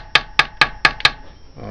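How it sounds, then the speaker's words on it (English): A very light hammer strikes a metal John Deere Type E side cover held in a vise to flatten it. Five sharp, ringing metallic blows land close by at a steady, even rhythm, each decaying quickly. "I'll just hit this a couple times and just flatten that out"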